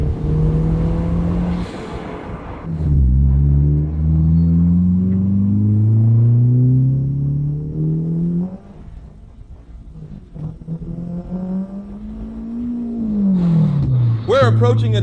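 A 502-horsepower Honda Civic engine accelerating hard from inside the car, its rising revs climbing loud and close, easing off briefly before pulling again, with a sharp high whine at the end.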